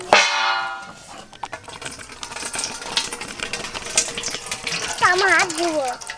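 Water pours and trickles out of a green coconut whose top has been cut open with a knife, a steady wet splashing against a busy background, with some brief whistly tones near the end.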